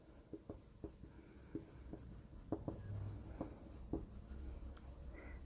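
A pen writing figures into a balance sheet for a Class 11 accounts lesson, with short scratchy strokes and taps in an uneven rhythm, close and soft.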